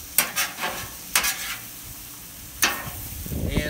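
Beef and broccoli being stirred on a Camp Chef flat top grill. A steady sizzle carries three sharp scraping strokes of the spatula, then the frying swells near the end.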